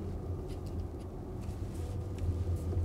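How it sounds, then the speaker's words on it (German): A steady low rumble and faint electric whir inside a Porsche Taycan Turbo while driving, a continuous muffled road and motor drone with a few light interior clicks, heard from the cabin. "Dennoch hört man hier während der Fahrt eigentlich permanent den Elektromotor."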